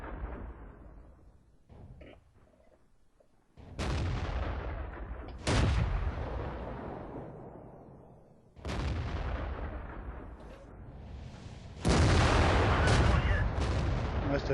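Tank cannons boom in a World of Tanks battle on a KV-1S, with about four loud, heavy blasts spaced several seconds apart, each trailing into a rumbling decay.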